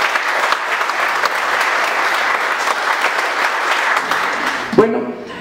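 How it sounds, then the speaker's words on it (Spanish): A crowd at a forum gives a speaker named Lupita a sustained, dense round of applause that fades near the end, where a voice briefly cuts in. "le ofrecemos un aplauso a Lupita"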